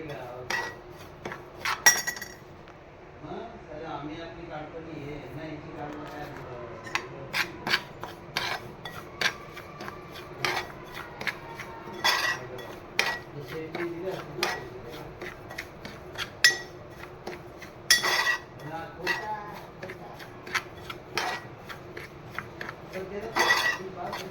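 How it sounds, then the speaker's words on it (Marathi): Semolina (rava) roasted in a pan over low gas for sheera, a dry gritty scraping of a spatula repeating in irregular strokes with occasional sharp metallic clinks against the pan, close and fairly quiet. "आपल्याला हा रवा मंद गॅसवर भाजून घ्यायचा आहे छानपैकी"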